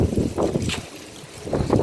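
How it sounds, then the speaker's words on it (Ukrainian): Gusty wind buffets the microphone in low rumbling bursts that swell, ease off briefly, then surge again. "Ой, такий вітер у нас."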